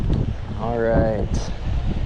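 Gusty wind buffeting a microphone outdoors on an island during a fishing trip in Japan, a steady broadband rush throughout with a voice speaking briefly over it.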